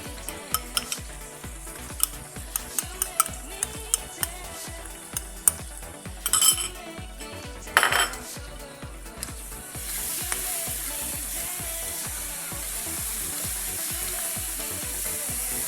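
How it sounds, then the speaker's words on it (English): Powdered spices frying in a pan with a steady sizzle, broken at first by sharp utensil taps and scrapes against the metal. A louder, denser hiss swells in about two-thirds of the way through and holds to the end. "the powdered spices tend to fry up very quickly"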